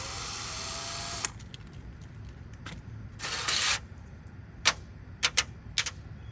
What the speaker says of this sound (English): Take these screws off on one side and then I'll flip it over.